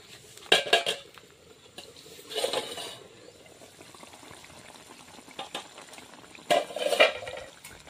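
A pan lid is lifted off fish cooking in oil with spices, bringing a few sharp metallic clinks and scrapes and a brief burst of sizzling between quiet stretches.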